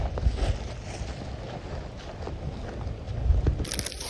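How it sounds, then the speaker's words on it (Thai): Dry wind blows across an open rice field outdoors, a steady broadband rush with low rumbling gusts buffeting the microphone, swelling louder near the end. "ลมแห้งมาอีกเลยเนาะ"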